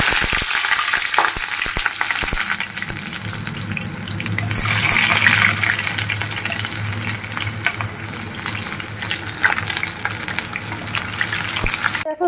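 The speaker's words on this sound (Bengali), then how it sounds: "অনেকটা তেল রয়েছে, এই তেলের মধ্যেই আমি পেঁয়াজটা দিয়ে দেবো। পেঁয়াজটা একটু ফ্রাই করে নেব।" Onions frying in plenty of oil in a pan, cooked while making paneer kofta: a steady, loud sizzle runs throughout with a brief louder surge midway, no voices.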